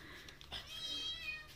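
A cat meows a few times in soft, tonal cries, close but fairly quiet, against a low background hum.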